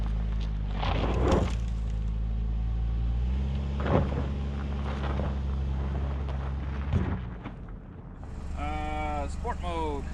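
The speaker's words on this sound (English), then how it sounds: "So I had to give it almost full throttle here for it to perform the same as it did in normal mode" A 2021 Nissan Rogue driving off road at nearly full throttle gives a steady, heavy low engine drone throughout, with someone talking over it.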